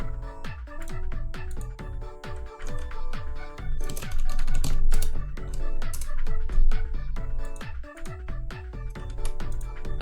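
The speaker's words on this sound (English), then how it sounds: "I want to type in here." Rapid typing on a computer keyboard, a string of close, crisp key clicks running through the whole stretch over a steady tonal background, with no talking.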